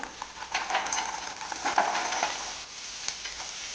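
Sweetcorn kernels are stirred in a pan with turmeric and paste for desi makai chevdo, producing soft, irregular scraping and light sizzling strokes, quiet and close, with no talking.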